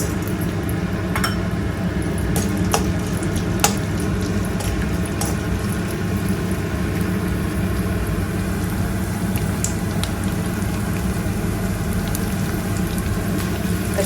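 Edible gum (dink) frying and puffing up in ghee over full flame, a constant dense crackling sizzle with scattered sharp pops, steady and close, with no talking.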